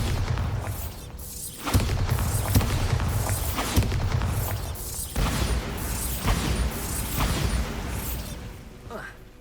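Bombarda blasting spell explosions in the Hogwarts Legacy video game, set in a haunted house: a run of loud booming blasts and thuds repeating every second or two, with a voice speaking over the din.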